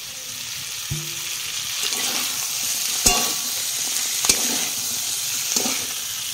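Cauliflower pieces being stirred and fried in a pan for a Bengali cauliflower and lentil-fritter curry, a continuous close sizzle with occasional sharp scraping clinks of the spoon against the pan, no talking.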